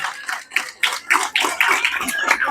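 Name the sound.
audience clapping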